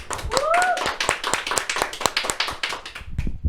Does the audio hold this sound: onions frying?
no